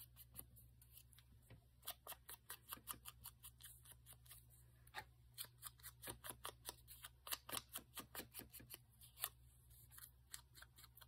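Scissors snipping paper for a handmade art journal, a long run of crisp, evenly paced cuts, close and quiet over a faint low hum.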